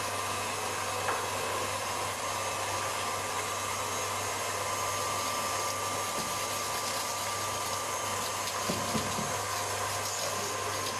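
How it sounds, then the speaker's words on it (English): Egg whites beaten until foamy for a Japanese cotton-soft cheesecake, heard as a loud, unbroken whirring drone of a mixer running steadily throughout with no talking. "And begin whisking. Now we wanna wait till the egg whites become a little bit foamy"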